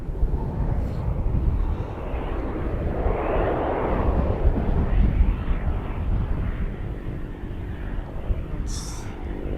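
A KLM Airbus A330 airliner roars past at Edmonton International Airport, a broad jet rumble that builds and fades over several seconds, with faint outdoor background noise.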